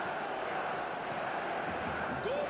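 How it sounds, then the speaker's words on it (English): Crowd of fans in eFootball applauding a goal, a dense, steady wash of clapping and cheering that fills the whole stretch at an even level. "Even some of the opposing fans are clapping that."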